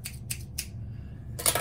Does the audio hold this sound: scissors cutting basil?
yes